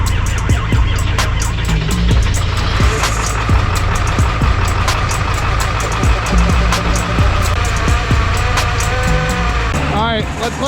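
A cold Ford F-550 XLT with a 7.3L Powerstroke diesel idles loudly up close while warming up, a steady clattering rumble that runs unbroken throughout.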